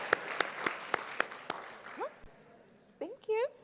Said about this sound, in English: Let's give these incredible students another big round of applause